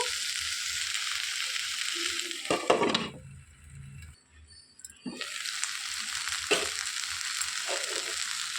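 Onions and garlic sizzle loudly in a pan for a restaurant-style Hyderabadi veg dum biryani, with a few clinks and scrapes of stirring and a brief quieter gap midway before the frying noise returns.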